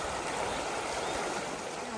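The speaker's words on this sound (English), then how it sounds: "This creek's looking a little swollen." A swollen creek rushes right up to the edge of the Appalachian Trail near a footbridge, giving a close, loud, continuous roar of churning water with no pause.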